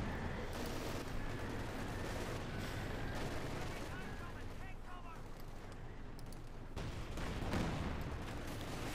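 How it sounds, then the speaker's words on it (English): Gunfire in the World War II strategy game Company of Heroes 2 forms a dense crackle of rapid shots and bursts layered under continuous commentary. "Shots fired at the commandos, and none really seem to connect with them."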